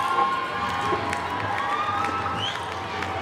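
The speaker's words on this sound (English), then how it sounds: "Oh, listen to that crowd." A large crowd cheers and roars steadily at the final of the South African table tennis open, a sustained wash of voices with scattered whistles and shouts.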